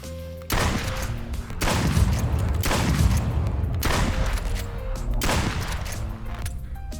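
Video game gunfire comes in three loud, dense bursts of rapid shots, each lasting about a second, separated by brief gaps with a steady game background underneath.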